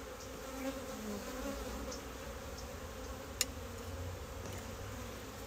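Honey bees buzz in a steady, close swarm around an open hive, their droning hum filling the air with a single sharp tap partway through.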